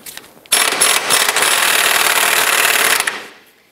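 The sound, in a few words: loosening 18 mm subframe bolts with a power tool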